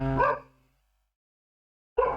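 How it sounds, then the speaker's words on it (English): A dog barks in two short, loud bursts close by, one at the start and another after a silent gap, with a person briefly speaking nearby. "For some reason seems to be barking quite a lot."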